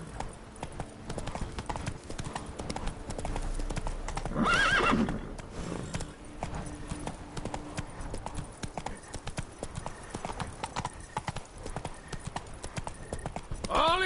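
In The Witcher 3, Roach the horse clip-clops in a steady hoof rhythm on hard ground, with a loud whinny partway through and a brief spoken line near the start.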